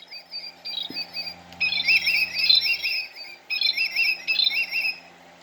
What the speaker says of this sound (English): Willet